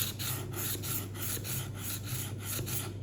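A knife is rubbed back and forth through a magnetic sharpener with rotating wheels, giving a steady run of about eight close, rhythmic rasping strokes with no talking.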